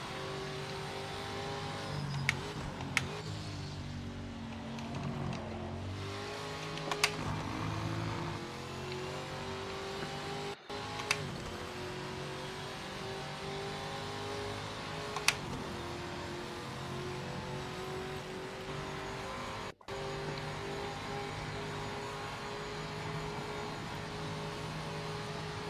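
An NGT race car engine in the Project Motor Racing game drones steadily and loudly throughout, its pitch rising and falling with gear changes and revs, with a few sharp clicks and two brief dropouts.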